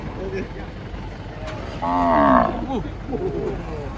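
A cow being unloaded from a truck gives one loud, drawn-out moo near the middle, with quieter background noise and brief voices around it.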